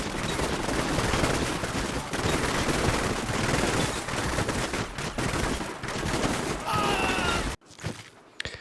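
Sustained gunfire erupts in the Combat Mission Shock Force 2 war game as a squad opens fire on Syrian troops, with dense overlapping rifle and machine-gun bursts that roll on loudly for several seconds before abruptly cutting off.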